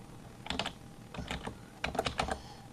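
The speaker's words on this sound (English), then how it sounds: "So I'll type nitrogen." Three quick bursts of typing on a computer keyboard, crisp close key clacks in short clusters with brief pauses between, over a low steady hum.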